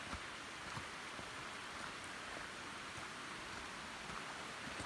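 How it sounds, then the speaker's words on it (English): Soft, steady patter of light rain falls continuously, with scattered tiny drop ticks against a quiet, hissing background and no talking. "And the rain is lightly starting to come down."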